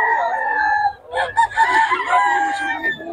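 A Boston Roundhead gamefowl rooster crows loudly and close at a Bocaue market, one drawn-out crow following a steady clucking call, with faint market bustle beneath.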